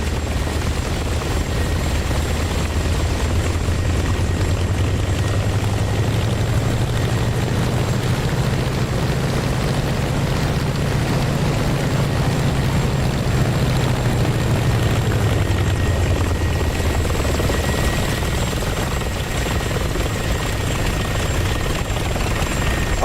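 An aircraft engine drones loud and constant while taxiing in the DCS flight simulator game. A low, rhythmic rotor-like thrum swells and fades over the middle stretch beneath a steady high whine, with no talking.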